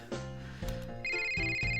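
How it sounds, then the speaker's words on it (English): A phone rings with a steady electronic ringtone, close and fairly loud, starting with a short tone and then holding a sustained high trill for most of its length, with no talk over it. "my phone's ringing"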